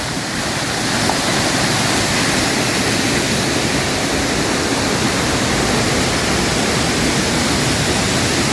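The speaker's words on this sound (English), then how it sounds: "Really, really noisy here." Arizona Falls waterfall roaring beside a canal, a loud, constant broadband rush of falling water that fills the whole clip with no pauses or other sounds.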